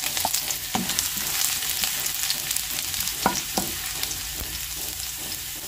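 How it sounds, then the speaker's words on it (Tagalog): Ginger sautéing in hot oil in a wok: a steady, close sizzle and frying hiss with scattered clicks and scrapes of stirring throughout. "Yan, gisa muna natin yung ating luya."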